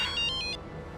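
A telephone rings in a home, a short electronic trill of two or three quick pulses over a quiet room, fading within a second.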